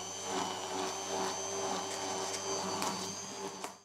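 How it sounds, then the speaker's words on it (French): A kitchen blender whirs steadily as it mixes tea before alginate is added for honey and Champagne tea pearls, a loud continuous motor hum with whining tones holding from start to finish. "Pour le thé, je commence par faire tourner mon mixeur"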